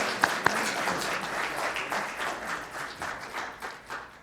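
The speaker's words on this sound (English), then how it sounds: "Please give our candidates a round of applause." An audience at a 2014 Health District of Northern Colorado election forum applauds the candidates, a moderate round of clapping with a couple of sharper claps near the start that gradually tapers.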